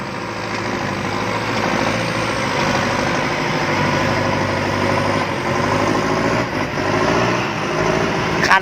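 Six-wheel truck engine running loud and close with a howling blower whine riding over the steady rumbling drone, holding constant for several seconds.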